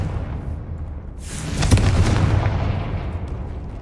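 A Confringo fire spell blasts in the Hogwarts Legacy video game: a quieter lead-in swells into one loud booming burst midway, then a rumbling decay trails off.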